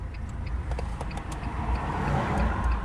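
A car rolling slowly backwards in neutral down a gentle 2% slope, with no brakes applied; a low, steady road rumble and faint tyre noise that swells slightly toward the end, with no voices.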